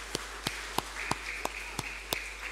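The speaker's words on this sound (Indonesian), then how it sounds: "Tepuk tangan anak-anak sekolah minggu" Sunday school children clapping during a Sunday church service at HKBP in Medan, seven sharp, evenly spaced claps in unison over a steady low hum, fairly close.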